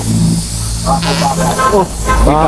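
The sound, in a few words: strong hissing air leak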